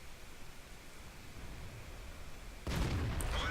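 AMX 13 90 light tank's main gun firing in a video game: a sudden loud blast late in the clip that cuts through a steady hiss of ambient noise and rings on briefly.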